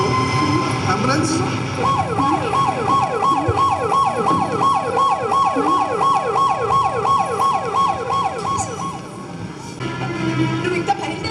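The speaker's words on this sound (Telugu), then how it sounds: "అంబులెన్స్" An ambulance siren wails loud and close in a rapid, rising-and-falling cycle that repeats steadily for several seconds, with traffic noise underneath.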